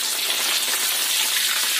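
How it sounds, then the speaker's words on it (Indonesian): Fish frying in hot oil fills the space with a loud, dense, continuous sizzle and crackle, close and unbroken throughout. "Goreng sampai kering ya."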